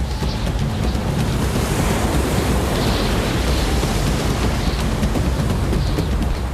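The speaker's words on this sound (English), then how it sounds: "This footage from last winter shows the pier engulfed by waves." Storm waves crash and surge around Doolin Pier in winter, a dense, unbroken roar of surf with steady wind buffeting the microphone throughout.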